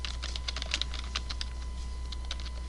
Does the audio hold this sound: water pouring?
no